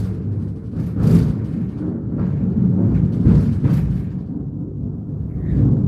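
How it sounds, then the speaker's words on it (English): Heavy thunder rolls through a storm, a continuous loud low rumble with several sharper cracks and surges standing out above the steady roar, with no talking. "Oh my goodness, that was really heavy thunder."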